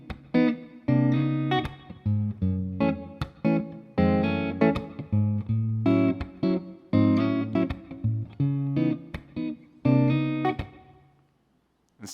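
Guitar played with soft fingertip slap taps using the flesh rather than the nails, giving rhythmic muted percussive hits between short plucked chord bursts, close and alone, trailing off at the end.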